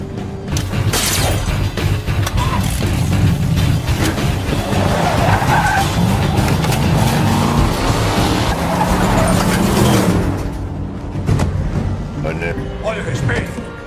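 A car from a Fast & Furious action film speeds off with tires skidding and squealing, a loud, close engine roar and screech lasting about ten seconds before fading, with a voice faintly mixed in.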